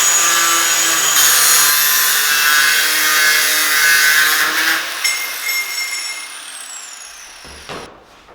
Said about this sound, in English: use the hacksaw to cut your steel pipe as I did